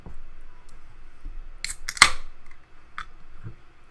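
A can of lager pops open with a sharp metallic crack and brief fizzing hiss, preceded by light handling clicks in a quiet room.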